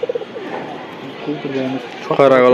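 Soft racing pigeon coos at a pigeon tournament, a short series of low notes at the start, then fainter calls under people talking close by.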